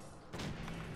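Gunfire in the Fallout 4 video game, a loud burst of shots starting partway through and rolling on as a dense, rumbling blast over steady game ambience.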